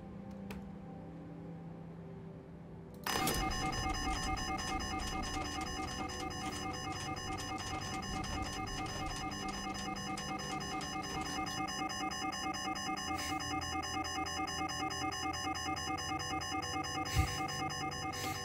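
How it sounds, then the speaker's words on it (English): A video game fire alarm suddenly starts up and keeps ringing, loud and continuous, with a steady buzzing, electronic tone that holds unchanged for many seconds and no voices over it. "Pull the fire alarm."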